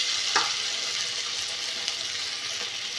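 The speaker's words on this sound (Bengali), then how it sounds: "আমি এবার ভেজে নেব পকোড়া।" Potato and onion pakoras fry in hot white oil in a karahi over a gas flame, giving a steady, close hiss and sizzle with a brief louder crackle early on.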